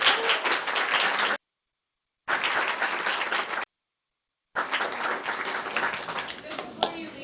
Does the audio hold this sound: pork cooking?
no